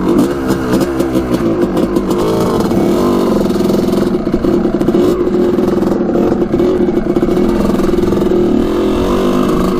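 A Honda CR250 two-stroke dirt bike engine runs loud and steady at close range, a raspy buzzing drone that holds its pitch with small throttle flutters throughout, with no talking over it.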